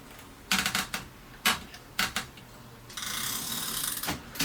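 A Mercedes typewriter has paper fed in and its platen turned, giving bursts of loud ratcheting clicks followed by a longer, steady mechanical whirring rattle, close and with no talking.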